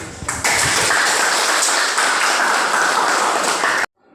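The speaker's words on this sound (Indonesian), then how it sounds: "Tepuk tangan" A classroom of students bursts into loud, close applause, a dense burst of many hands clapping together for about three and a half seconds before it cuts off abruptly into silence.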